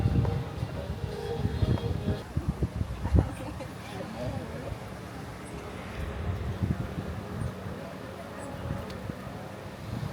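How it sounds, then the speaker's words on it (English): Wind gusting over a clifftop lookout point in Barranco, Lima, a low continuous rumble buffeting the microphone, rising and falling in strength, with no voices over it. "Oh, it's a little windy."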